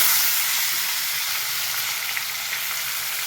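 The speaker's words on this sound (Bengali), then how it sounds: "চিংড়ি মাছগুলো আমি ভেজে নেবো। তেল গরম হয়ে গেছে।" Tiger prawns (bagda chingri) frying lightly in hot oil give a loud, steady, dense sizzle that holds evenly throughout with no voices.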